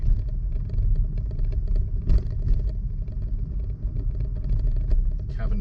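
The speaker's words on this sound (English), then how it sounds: "Right, car coming round and I've got to reverse into the driveway." A car engine rumbles steadily at close range while reversing slowly into a driveway, a low continuous drone with occasional faint clatter and no speech.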